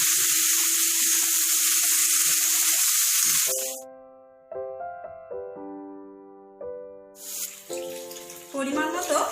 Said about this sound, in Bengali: ঝিঙেটাকেও মশলার সাথে আর একটু কষিয়ে নেব